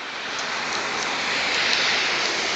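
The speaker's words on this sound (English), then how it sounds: "It's raining." Steady, loud rain hissing across the whole clip, a dense, even downpour with faint scattered drop taps and no voices.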